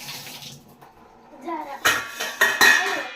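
A metal strainer and kadhai clatter and clank with other kitchenware in a few sharp bursts near a running tap, close by, after a quieter stretch of faint rustling.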